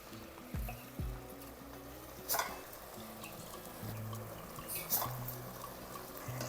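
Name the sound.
soaked ponni raw rice being added to a pan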